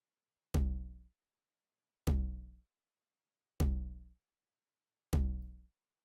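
Four spaced hits of a Roland TR-909 drum machine tom sample, each a punchy pitched drum strike with a short decaying tail, evenly repeated about every one and a half seconds with silence between.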